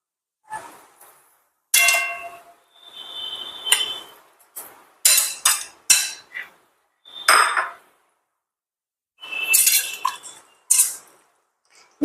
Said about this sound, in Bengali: এবার আমি পনিরটা এর মধ্যে ঢেলে দেব।